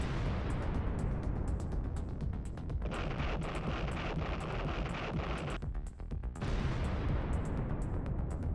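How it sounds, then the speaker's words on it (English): Ukrainian artillery striking a position with conventional bombs and cluster munitions, heard as a continuous rumbling roar full of dense crackling bursts and pops, loud and sustained throughout with wind buffeting the microphone. "Ukrainian artillery is sent to the same location, striking with conventional bombs and cluster munitions"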